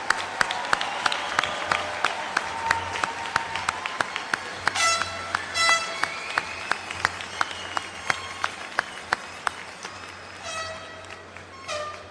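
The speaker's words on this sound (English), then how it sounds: "Let's have a round of applause for all our promotees today." An audience applauds for newly promoted NYPD officers at a ceremony. Sharp, sparse claps sound against a sustained tonal background, with swells of brighter, busier sound partway through.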